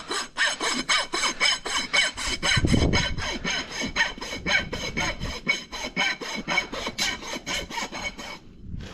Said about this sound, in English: I'm going to take my file and I'm going to file kind of at a 45, split this hoof wall